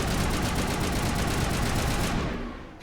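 Dense, continuous automatic gunfire in the Mass Effect video game, a loud sustained rattle of rapid shots lasting nearly three seconds before tapering off at the end.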